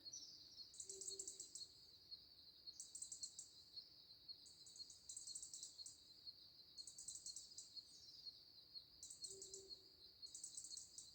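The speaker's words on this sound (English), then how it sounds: "Listen to the birds." Birds sing at dusk by a riverbed, with repeated high chirping phrases in short bursts over a quiet outdoor background and no talk.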